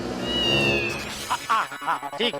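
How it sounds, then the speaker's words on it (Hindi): A house cat gives a drawn-out, wavering meow, followed by short choppy sounds that may be further meows or talk, in a comedy scene indoors. "ये तो वही बिल्ली है जो पोपटलाल के घर के बाहर थी।"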